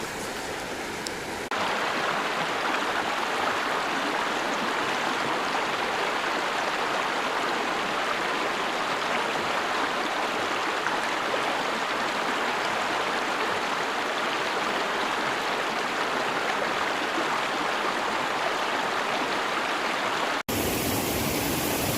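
A river flows in the Scottish Highlands near where it meets Loch Beinn, giving a steady, dense rush of water close by. It runs unbroken for about twenty seconds with no voices.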